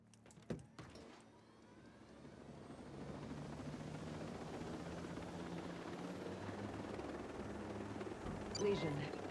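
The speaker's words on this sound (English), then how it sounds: "Borrowing your helicopter, please." Helicopter in Ghost Recon Breakpoint, its rotor drone rising and holding steady close by, loud and continuous through the clip after a few brief knocks at the start.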